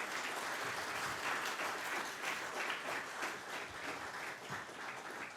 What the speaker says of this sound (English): I would like you all to clap hard and give them lots and lots of wishes